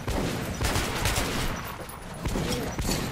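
Rapid bursts of video game gunfire, loud and repeated in quick volleys, with a brief lull in the middle.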